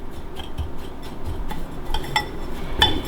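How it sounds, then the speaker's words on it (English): Dry ingredients for an apple pie protein bake being stirred in a bowl, with soft clinks and scrapes of a utensil against the dish over a low background rumble; a sharper clink near the end. "Mix everything in there."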